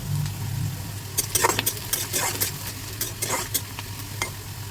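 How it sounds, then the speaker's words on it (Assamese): Onions fry with green chillies and whole cumin seeds in hot oil in a wok, a steady close sizzle broken by repeated sharp scrapes and clatters of stirring. "পিঁয়াজখিনি ভাজা হৈ গৈছে।"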